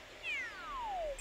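A cartoonish cat meow from Super Mario 3D World, a single clear descending cry lasting about a second, alone over quiet game background.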